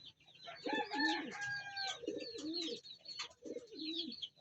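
Pigeons cooing nearby, a series of soft throaty rolling coos in three or four phrases with faint higher chirps around them.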